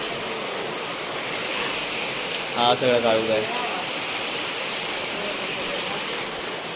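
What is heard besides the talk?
heavy monsoon rain in Konkan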